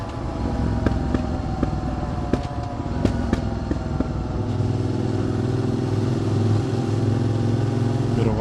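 A QJ SVT 650X motorcycle with a flashed ECU accelerates through the mid-range, its engine note loud and close from the rider's position. The raw exhaust carries crackles and pops, and the tone holds steady and strong near the end.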